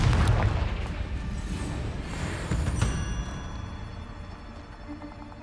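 A Confringo spell explosion in the Hogwarts Legacy video game, one heavy booming blast that rolls on as a long rumbling decay, loud and close.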